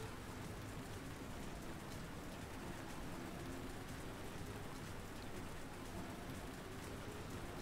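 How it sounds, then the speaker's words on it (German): Heavy rain in a racing video game, a loud, steady hiss of downpour filling the whole stretch without a break, no talk over it. "Der Regen ist so laut."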